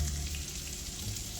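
Jalapenos, garlic and onions frying in a skillet, giving a brief, faint, steady sizzle heard close with no other sounds.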